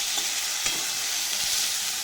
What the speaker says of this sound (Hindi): ये चिंगुड़ी ए माछ को ये पियाज हरिका फ्राए करछि